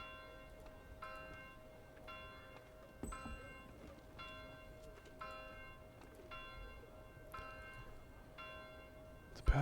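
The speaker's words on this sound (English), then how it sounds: "The bells are ringing." Church bells ring out in the medieval city-building game Manor Lords, a faint, regular series of bright bell strikes about a second apart over quiet ambient background.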